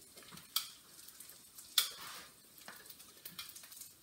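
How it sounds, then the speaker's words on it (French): Sausages browning in a little oil in a pan give a quiet, steady frying sizzle with a few sharper pops and crackles scattered through it, with no voices over it. "Et on va les faire revenir"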